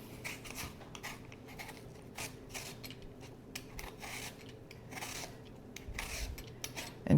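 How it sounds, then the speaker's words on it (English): Apples are peeled with a knife for canned-biscuit apple dumplings: soft, close scraping and rasping strokes come in an irregular series of short bursts, quiet and with no one talking. "Then we'll prepare our apples. I'm going to peel them."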